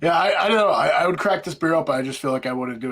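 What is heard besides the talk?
No everyday noise stands out behind the speech.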